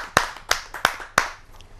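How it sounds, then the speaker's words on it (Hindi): At a Hindi poetry gathering (kavi sammelan), four sharp, close claps land in an even rhythm to welcome a poet, then fade into near quiet. "आप सबकी जोरदार तालियों से आमंत्रित करते हैं।"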